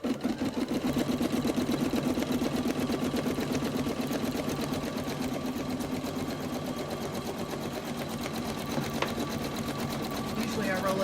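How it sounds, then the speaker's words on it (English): Embroidery sewing machine stitching a border onto a towel, a steady, rapid mechanical chatter running continuously and close throughout. "So now we're going to stitch the border and we're using the same thread."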